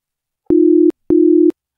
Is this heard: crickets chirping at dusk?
no